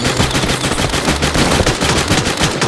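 Rapid automatic gunfire from a shooting video game with a Kingfisher Sunscale Serpent weapon skin, loud and continuous bursts of overlapping shots filling the whole stretch.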